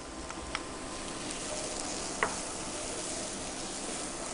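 Minced garlic and Moroccan spices sizzle in a pan with vegetables, a steady close frying hiss with a couple of faint clicks of a utensil, and no voices.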